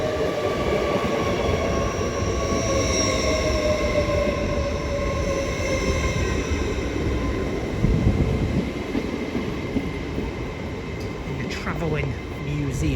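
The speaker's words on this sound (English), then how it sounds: "So we have got the Hull train service." Hull Trains class 802 unit 802304 runs through Doncaster station, a sustained rolling rumble with a clear whining tone that slides slowly downward, ending in fainter rattles near the end.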